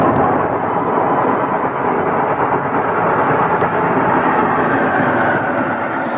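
Deep, continuous thunder rumbles across the sky in a long, loud, steady roll with no voices over it.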